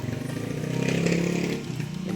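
A kulong-kulong motorcycle sidecar in Bulacan runs nearby, its small engine buzzing and rasping, rising in revs toward the middle and then dropping back to a rough idle.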